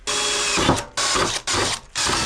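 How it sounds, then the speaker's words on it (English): Power drill whirring in four bursts separated by brief pauses, loud and close, with the motor pitch shifting as it bites. "we're going to drill our holes before we paint it"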